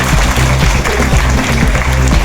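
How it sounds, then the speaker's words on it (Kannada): Audience applause for teachers at a women's self-reliance event, a dense, steady wash of many hands clapping for a couple of seconds with no speech over it. "ಟೀಚರ್ಸ್ಗೆ ನೀವು ಜೋರಾಗಿ ಚಪ್ಪಾಳೆ ಕೊಡಲೇಬೇಕು"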